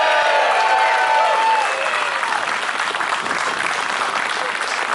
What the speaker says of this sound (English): so give them a big cheer.